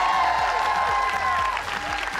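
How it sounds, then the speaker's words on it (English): Studio audience clapping, a brief burst of applause from a crowd at a talk show, fairly loud and continuous with some overlapping voices. "That deserves a round of applause."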